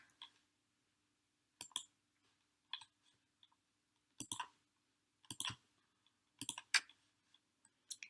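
Mouse clicks entering text on the Windows on-screen keyboard, sharp isolated clicks in small clusters separated by quiet gaps, close and fairly faint, with no voices.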